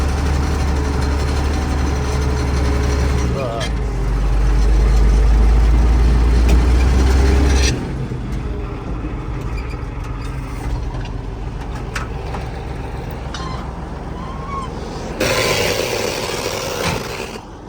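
A T-150K tractor engine runs loudly and steadily with a deep, rumbling drone during disc harrowing, its pitch shifting slightly partway through.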